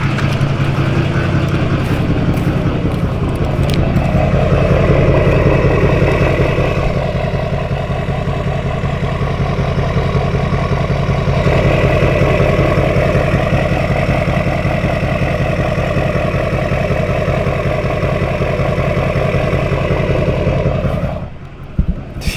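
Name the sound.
diesel truck engine idling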